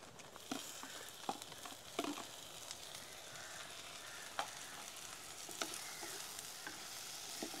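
Chopped tomatoes with onions frying in sesame oil in a pan, with a steady close sizzle throughout and occasional sharp clicks from stirring.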